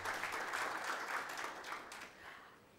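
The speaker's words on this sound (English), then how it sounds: "round of applause for Peter as he comes up" An audience applauds steadily in a hall as a guest speaker named Peter from Yara, Rwanda comes up to the stage; dense clapping that stays full for about two seconds before tapering off.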